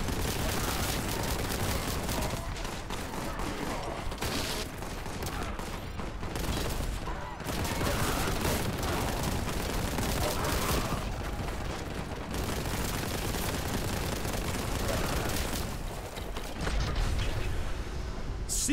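Heavy gunfire in Warhammer: Boltgun, dense sustained bursts of shots and mechanical clatter, loud and near, broken by brief lulls before firing resumes.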